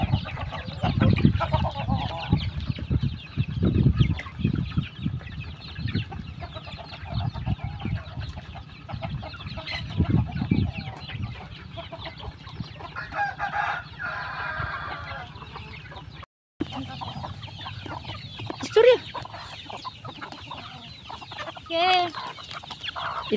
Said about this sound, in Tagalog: yung mga manok oh, gana-ganang kumain